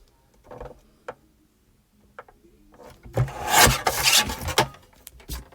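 Craft card for an advent calendar project is trimmed, a few soft isolated taps and rubs giving way to a louder burst of rasping cutting strokes in the second half, close by and without talk.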